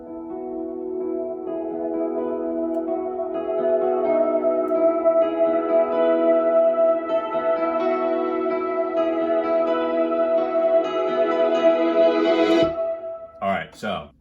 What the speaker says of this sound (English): So what you have here is just a guitar.